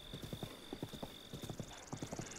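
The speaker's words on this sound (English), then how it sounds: "I don't control the horse. The horse is an animal." Hooves clip-clop in steady rhythmic bursts as a horse trots in The Legend of Zelda: Breath of the Wild, close and clear, with a thin sustained tone running beneath.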